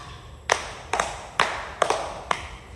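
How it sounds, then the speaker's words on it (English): A group of students in a classroom gives five claps in unison, five sharp, evenly spaced claps in a steady rhythm, clear and close with no talk over them. "So let's give group 2 5 claps."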